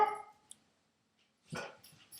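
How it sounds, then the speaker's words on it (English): A dog barks once sharply, a short yip follows, then another louder bark after a brief pause, close by with no talking. "Sorry everyone, that's my dog. I think I just spooked him."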